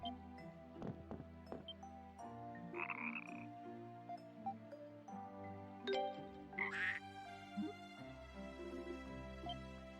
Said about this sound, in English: This frog seems afraid to go back into the river.